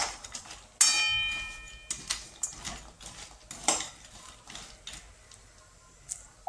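Dry dates (kharik) roasting in ghee in a pan, stirred with a metal spoon, giving scattered scraping clinks and taps against the pan, one sharper knock near the start, with no talking.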